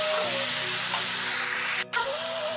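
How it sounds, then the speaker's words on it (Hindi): Onion and capsicum frying in a pan, a steady broad sizzle with a brief stir-like scrape and a short break near the end, fairly close and moderately loud with no talking. "ये देखो दोस्तों प्याज और शिमला मिर्च हम भुनाते जाएंगे।"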